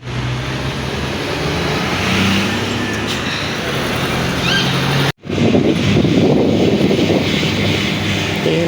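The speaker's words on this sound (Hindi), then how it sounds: "गाड़ी हमारी चल चुकी है।" A car engine runs steadily as the journey starts, a continuous loud rumble mixed with wind and road noise, broken by a brief cut before resuming more roughly.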